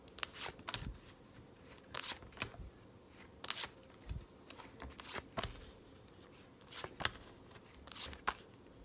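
Tarot cards are shuffled by hand in repeated short bursts of soft riffling and flicking, quiet and close, with brief pauses between passes.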